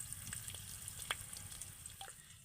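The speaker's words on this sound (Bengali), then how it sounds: "দিয়ে একটু তেলের সাথে হালকা করে ভেজে নেব" Curry leaves frying lightly in hot oil, a steady low crackling sizzle with occasional small pops and a faint clink, continuous and fairly quiet throughout.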